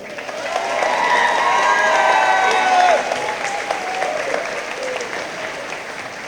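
A crowd claps for the Healey School 8th graders at their 2022 moving-on ceremony. The applause is sustained and fairly loud, swelling early, peaking around the middle, then easing slightly, with some voices mixed in.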